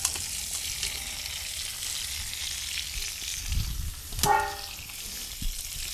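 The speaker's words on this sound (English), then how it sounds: "I'm also going to just give these a little bit of just a quick stir fry" Ingredients sizzle and fry steadily in a hot pan during a quick stir fry for a medicinal soup, a continuous close hiss with a brief clatter of stirring near the end.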